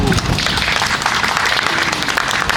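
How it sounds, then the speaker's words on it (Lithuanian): Steady audience applause fills a commemoration of the June Uprising in Lithuania, dense and sustained clapping from a crowd with no pauses throughout. "Aplodismentai."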